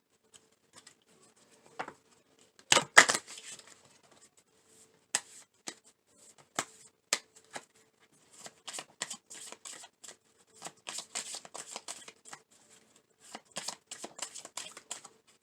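Tarot cards being shuffled in quick riffles and soft slaps, coming in irregular bursts with pauses between, close and fairly quiet.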